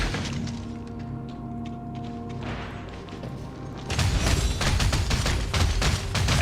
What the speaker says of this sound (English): I shoot you with cannon.